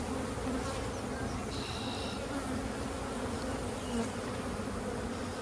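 Honey bees buzz steadily on a brood frame where young bees are emerging, a continuous close, low drone with no talk.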